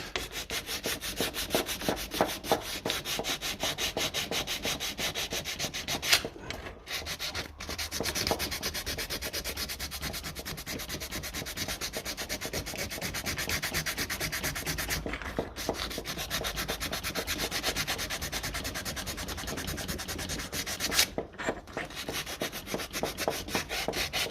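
Abrasive sanding cleans a burr off a 1957 Ferguson TEF diesel pump, a long, close, steady run of fast rhythmic rubbing strokes broken by three short pauses, with no talking.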